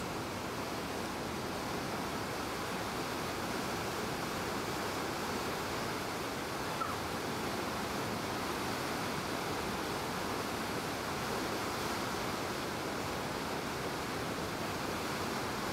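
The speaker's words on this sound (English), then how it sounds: "it is the size and speed of the Athabasca River that makes this quite a powerful fall, as you can see by the way the water hits the rocks" Athabasca Falls on the Athabasca River in Jasper National Park, Canada, pours powerfully onto rocks, making a constant, loud, broadband roar of rushing water with no variation.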